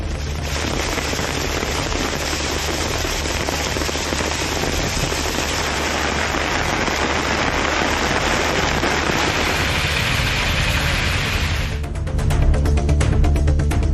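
Heavy rain pours down steadily and loudly, with rainwater streaming across roads. The hiss intensifies with a burst of denser spattering near the end, and no one speaks.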